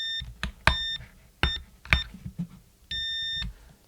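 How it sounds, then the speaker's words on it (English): A multimeter in continuity mode beeps as its probes touch the ground of a Les Paul guitar, short high electronic tones in irregular bursts, one longer held beep near the end, amid handling clicks and taps. "Let's see if you can hear some beeps."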